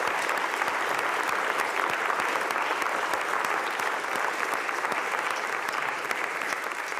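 An audience at a steward-ownership conference applauds five panel speakers, a sustained even round of clapping from many hands, loud and steady throughout with no speech over it.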